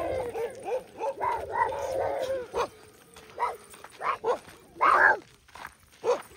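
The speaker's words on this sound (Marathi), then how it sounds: "लय कुत्री आली" Several dogs bark and yip in a village setting with brief irregular bursts, some whimpering, and a few louder yelps near the end, with people talking in between.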